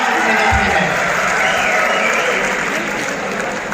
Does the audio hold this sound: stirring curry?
no